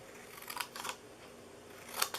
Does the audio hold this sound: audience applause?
no